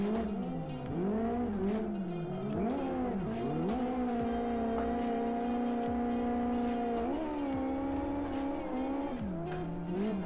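Drift-setup cars run tandem drifts through a hotel section, engines revving and wavering in pitch as they slide, with tyre squeal layered over the loud, continuous engine drone throughout.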